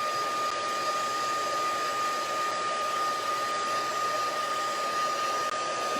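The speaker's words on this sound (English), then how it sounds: "I'm just going to speed up some of that drying time by using my heat tool" A handheld heat tool blows hot air to dry ink on a paper craft project, giving a steady, loud, even whoosh and hum that runs the whole time without pauses.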